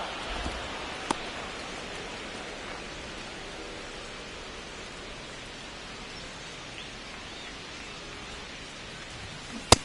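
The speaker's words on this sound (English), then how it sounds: "the field's not going to be able to hold up if the rain gets any worse than this" Rain falling on a baseball field in MLB The Show 26: a steady, even hiss of rainfall with a few faint ticks and one sharp tap near the end.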